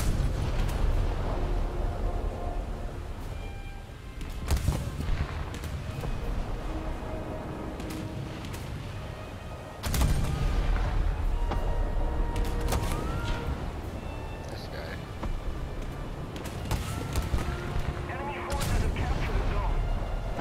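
War Thunder combat with heavy cannon and gun blasts that repeat every few seconds over a steady engine rumble. Booming impacts and clanks layer over a continuous dense background.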